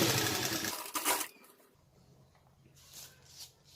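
A sewing machine stitches a plate into a salwar. A quick, close burst of mechanical whirring plays for about a second, followed by faint, intermittent machine sounds at low level.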